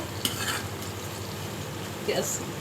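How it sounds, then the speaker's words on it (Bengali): Spice paste with garlic and bay leaves frying in hot oil for a Sirajganj-style menda (pituli) dish, a steady soft sizzle with a few scraping stirs of a spoon against the pan. "তেল তেজপাতা একদম ভালো করে ভেজে নিতে হবে"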